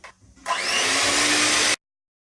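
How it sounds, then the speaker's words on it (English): A whisk beats butter and sugar into a creamy cake batter, giving a loud, steady whirring roar that starts abruptly after a faint lead-in, runs for just over a second, then cuts off into silence. "I'm going to use the whisk to make it very creamy, light and fluffy."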